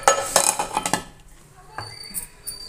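Laddu ingredients, including fennel, fox nuts and coconut, are stirred in a pan with a metal spoon, making a quick run of clinks and scrapes followed by sparser knocks, with a voice briefly under the sound.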